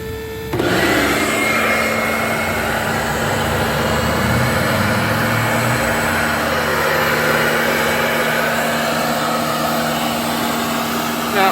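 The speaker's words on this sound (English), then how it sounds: "go ahead and turn on the high pressure pump" A SeaWaterPro marine watermaker's high-pressure pump starts up abruptly and runs with a loud, steady mechanical whine and hum that holds constant to the end.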